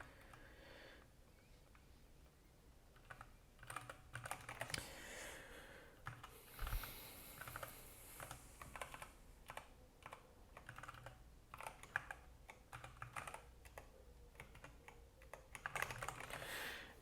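Typing on a computer keyboard, close and fairly quiet, with irregular bursts of key clicks spread across the stretch and some breathing in between, no talking.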